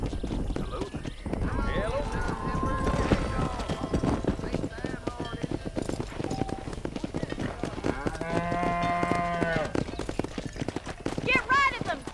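Cattle herded along a road in the Western video game Red Dead Redemption, with horse hooves clip-clopping steadily, cows lowing now and then, and a voice talking over the livestock throughout.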